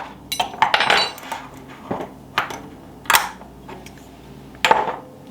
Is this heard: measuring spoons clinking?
yes